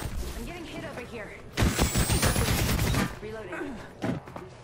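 Rapid bursts of gunfire in the battle royale shooter Apex Legends, loud and dense through the middle of the clip with quieter shots around it, mixed with game effects and voices talking throughout.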